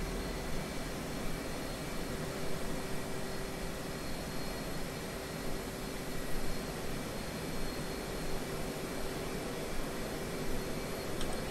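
A jet aircraft in the DCS flight simulator approaches to land on a damaged runway, a steady broad engine roar and whine that holds level throughout with no talk.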